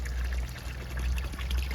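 Water pouring steadily from a garden pond filter outlet, a continuous splashing trickle heard up close with a low rumble beneath and no talk.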